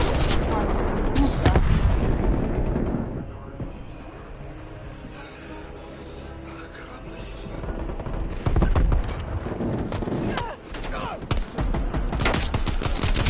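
Rapid gunfire rattles through a Call of Duty Cold War match on PS4, loud bursts at the start and again near the end with a quieter stretch between, and a player talks over it.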